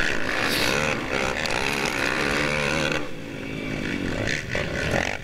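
Off-road motorcycles roaring together at the start of a GNCC cross-country race at Big Buck in 2014, a dense, loud, sustained engine drone with rising and falling revs.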